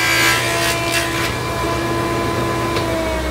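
A dado being cut into a wood board on a table saw set up with an Incra jig, a steady sustained saw whine with rough cutting noise, loud and close, running throughout with no talking.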